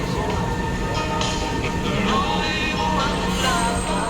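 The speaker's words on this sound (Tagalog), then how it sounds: "Train is coming na pala." A train pulls into a station with a loud, steady rumble and metallic hum of rolling cars and squealing rails, close by, while people talk faintly in the background.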